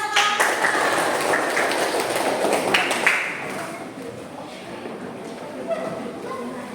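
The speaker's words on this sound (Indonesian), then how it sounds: "tepuk tangan." Classroom pupils clap for a short burst that starts loud and fades after a few seconds, followed by quieter room sound and a teacher speaking.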